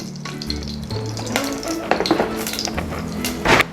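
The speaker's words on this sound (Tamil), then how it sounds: "ஸ்டவ் ஆன் பண்ணி ஒரு பேன் வச்சுருக்கேன். அந்த பேன் சூடான உடனே ஒரு 50 கிராம் அளவுக்கு நல்லெண்ணெய் விட்டுக்கிறேன்" About 50 grams of sesame oil heating in a pan on a stove, crackling and spitting steadily under a low background hum, with a louder burst of sizzle near the end.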